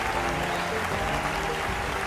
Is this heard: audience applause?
yes